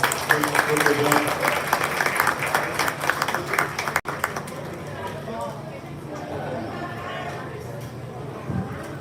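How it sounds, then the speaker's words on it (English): Audience applause rings out at a junior livestock cattle show, a steady, crowded clapping for the young exhibitors that lasts a few seconds. It then drops away as an announcer talks over the arena ambience. "We get a round of applause for the young men and women"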